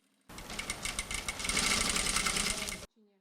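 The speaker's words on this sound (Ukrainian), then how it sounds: "Ця ножна швейна машинка найулюбленіша для пані Галини." A foot-operated treadle sewing machine runs in a rapid, rhythmic clatter for about two and a half seconds, getting louder midway, then stops abruptly, followed by a brief faint sound.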